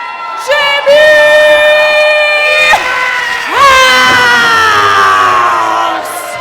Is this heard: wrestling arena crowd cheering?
yes